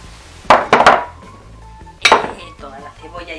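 Chopped pepper and tomato tumble into a metal cooking pot for Spanish lentils, making a few sharp clinks and knocks against the pot, close and loud, with quieter handling noises between them.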